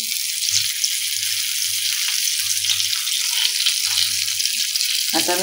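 Surmai fish frying in a pan, a steady bright hiss of sizzling oil running throughout with faint low intermittent hum underneath and a brief clatter near the end.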